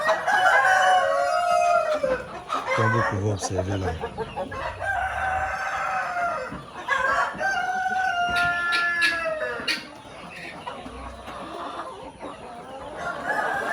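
Chickens cluck and a rooster crows around laying nests on an integrated farm, busy and close, with someone talking over the birds.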